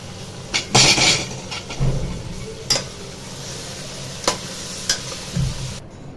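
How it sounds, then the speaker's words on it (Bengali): Dal poured into hot, sizzling masala for a dhaba-style tadka gives a close, busy frying hiss, punctuated by a few scraping stirs and utensil clatters. "এবার আমি ডালটা অ্যাড করে দেব।"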